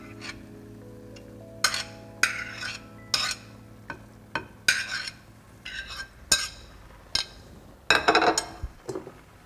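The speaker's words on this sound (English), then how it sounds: "现在把刚才炒过的鸡肉放上去" Stir-fried chicken being spooned onto rice in a clay pot: a string of crisp scrapes and clinks of a utensil against the pot, coming in irregular bursts over a faint sizzle, close and fairly loud.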